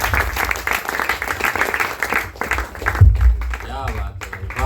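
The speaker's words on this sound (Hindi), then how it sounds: "एक बार जोरदार तालियां आप सबके लिए" Audience applause at a mushaira poetry gathering, a sustained burst of clapping from the crowd with voices mixed in, fading near the end as talk resumes.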